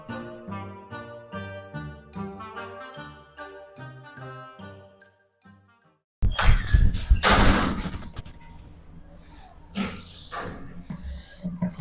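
A gate swings open with a sudden loud clattering burst of metal and rattling, then keeps scraping and knocking. It follows a stretch of melodic music.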